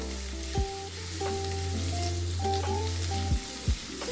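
Sliced onion fries in a pan for egg chowmein and gets stirred, an even sizzle carrying steady tones from nearby equipment and a few brief sweeping scrapes.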